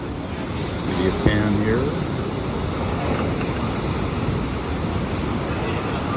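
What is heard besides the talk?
storm waves and surf at Honolulu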